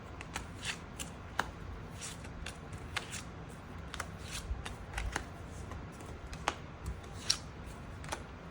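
Tarot cards are shuffled and drawn by hand, a close, steady papery rustle broken by repeated crisp riffling snaps.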